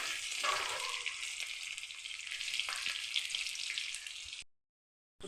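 Chopped beetroot sautés in a pan for poriyal with a steady, close sizzle and faint stirring taps, then cuts off into silence.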